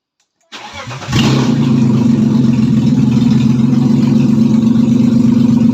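A BMW 328i fitted with a custom dual exhaust, muffler and valve fires up after a brief crank, then settles into a loud, steady, deep idle rumble close by, with no talking.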